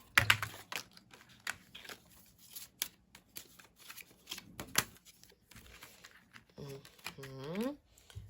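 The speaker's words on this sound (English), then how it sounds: "So I'm going to get 3 cards out." Tarot cards shuffled and handled during a card reading: quick, crisp riffling and flicking bursts, close and fairly quiet, with light rustling between them and a voice talking briefly.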